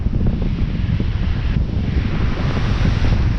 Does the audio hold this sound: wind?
yes